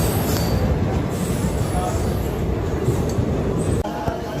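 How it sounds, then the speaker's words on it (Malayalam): A Thiruvananthapuram–Mangalore passenger train passes at a station in Kerala, making a loud, steady roar and rumble of wheels and carriages that runs unbroken throughout, with faint voices mixed in. "ഈ തിരുവനന്തപുരം മംഗളൂർ സഞ്ചാരം പോകുന്ന ട്രെയിനാണ്"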